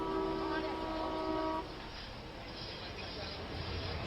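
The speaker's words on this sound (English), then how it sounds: "Another train fast approaches and lays on the horn," An approaching train sounds a loud, sustained horn blast for about a second and a half. It then cuts off, leaving steady rumbling noise underneath.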